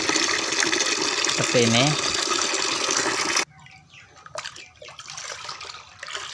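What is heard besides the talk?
water poured into containers until full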